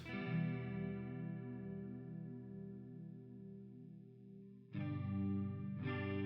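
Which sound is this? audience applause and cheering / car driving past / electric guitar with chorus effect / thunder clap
electric guitar with chorus effect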